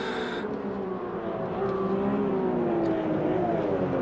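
Race car engines roar together at a night race start in the Automobilista 2 sim, a steady droning chorus of revving motors with rising and falling pitch that carries on without a break.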